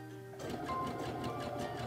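A Brother sewing machine stitches a sideways overedge zigzag, a short close burst of rapid rhythmic whirring and needle clatter starting after a brief pause.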